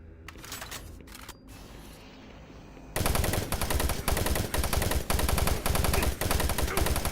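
A chain gun in the video game Doom 3 opens up with loud, rapid, sustained bursts of automatic fire after a few seconds of quieter game sound.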